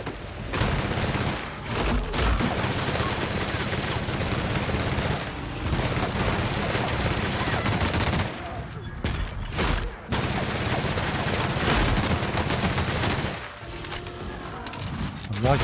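Gunfire from The Outer Worlds rattles in dense, loud fusillades with rapid repeated shots, continuing almost nonstop across the stretch with a few brief pauses, and a voice talks over it at times.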